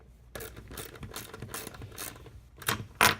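A ratchet tightens a bolt on a Conductix-Wampfler Safe-Lec 2 conductor bar, giving close, steady ratcheting clicks that build to a sharper final burst, with no talking.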